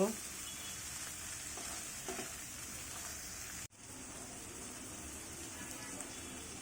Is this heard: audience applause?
no